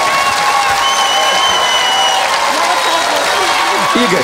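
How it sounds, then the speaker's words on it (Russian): A studio audience applauds on a Russian television music show, a steady dense wash of clapping throughout, with a presenter's voice briefly rising over it near the end. "Ваши аплодисменты!"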